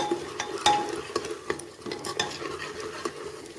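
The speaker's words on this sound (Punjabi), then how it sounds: "ਇਸ ਵਿੱਚ ਆਪਾਂ ਇੱਕ ਕੇ ਹਿੰਗ ਪਾਊਡਰ ਪਾਵਾਂਗੇ ਚੰਗੀ ਤਰ੍ਹਾਂ ਮਿਕਸ ਕਰਾਂਗੇ" A spoon stirs asafoetida powder into aloo chole in a pan, giving repeated scraping and clinking strokes in an uneven rhythm over a soft sizzle, close and moderately loud.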